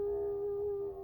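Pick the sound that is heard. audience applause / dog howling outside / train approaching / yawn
dog howling outside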